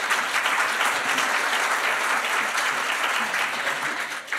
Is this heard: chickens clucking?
no